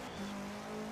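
A Volkswagen Beetle in Herbie livery drives in the Forza Horizon 4 video game, giving a brief steady engine drone with a faint tire-noise edge and no talk.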